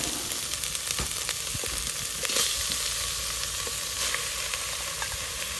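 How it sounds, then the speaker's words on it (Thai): Steady, crackling sizzle of fish frying in coconut milk and curry paste in a pot, with occasional soft pops and stirring clatter, close and continuous. "พอกะทิกับเครื่องแกงนี่เข้ากันแล้วก็แตกมันดีแล้วนี่ก็ใส่ปลาครับ"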